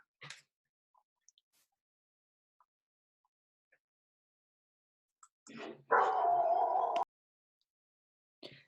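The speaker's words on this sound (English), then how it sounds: "I was just going to say something and my dog started barking." A dog barks in a quiet room, a few scattered short barks followed by one longer, loud burst of barking and a final yip, with long silences between.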